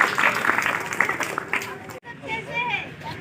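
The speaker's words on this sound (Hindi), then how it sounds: "तो जोरदार तालियां हो जाए नंदिनी और उनके" Audience applause at a foundation day celebration for a drama group, a busy clatter of claps mixed with crowd noise for about two seconds, cut off sharply before people start talking.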